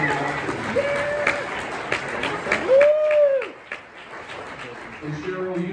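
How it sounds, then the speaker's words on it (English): An audience breaks into a round of applause, a dense wash of clapping that swells and fades while voices and a whistle-like tone carry over it. "Let's give her one more round of applause for doing that."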